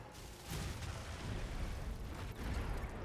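Artillery fire in the futuristic strategy game Anno 2205 comes through as a low, rumbling barrage with dull booms rolling continuously. It stays fairly quiet and distant, with a brief lull and then a steady thunder.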